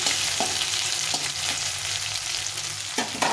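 Potato pieces and ginger fry in a pan with a constant close sizzle, broken by several sharp scraping strokes of a stirring utensil.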